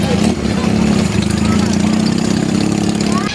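Motorcycle engines idle together at a children's day parade in Ukraine, a loud, steady low rumble filling the whole clip without pause.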